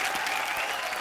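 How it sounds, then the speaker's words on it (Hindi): A studio audience at a comedy show claps in a dense, even burst, loud and close, with no voices over it. "बहुत जोरदार तालियां"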